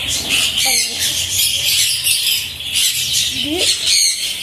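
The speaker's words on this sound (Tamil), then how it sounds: "இது பேர்ட் தான் பாருங்க." Birds squawk loudly and repeatedly close by, with harsh calls and a few rising squeals over a busy, continuous chorus of birds.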